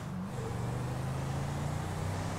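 Car engine accelerating in the video game GTA 5, a steady revving drone with rising tone that holds continuously and loud, with no talk over it.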